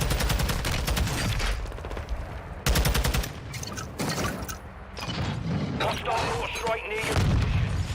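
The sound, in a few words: gunfire in video game Warzone 2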